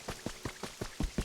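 Rain in the video game Pokopia patters as a steady series of evenly spaced soft drops, about five per second, close and fairly loud with no voice.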